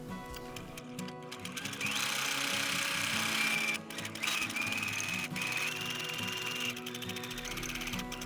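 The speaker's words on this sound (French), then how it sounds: "Je pars à la machine à coudre." A sewing machine runs in bursts as cicada-shaped lavender sachets are stitched, its rapid mechanical clatter and ratcheting rhythm close and fairly quiet, with brief pauses between runs.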